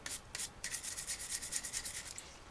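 An 18650 lithium cell is rubbed clean before soldering holes on its negative end, making quick, close scraping strokes in a steady, fairly quiet rhythm with no talk.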